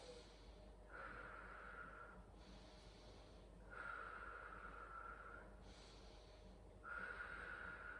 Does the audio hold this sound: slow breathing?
yes